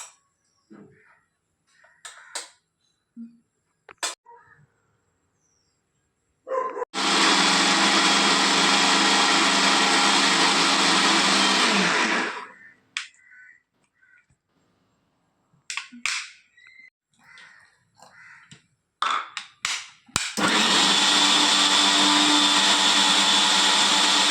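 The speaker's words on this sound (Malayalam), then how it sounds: "മഞ്ഞൾ പൊടിയും മുളക് പൊടിയും ഇട്ട് അരച്ചെടുക്കാം കേട്ടോ" An electric mixer grinder blends a fish curry paste with turmeric and chili powder in two loud, steady whirring runs, one about five seconds long and a later one, with scattered clinks and handling knocks in the quiet between them.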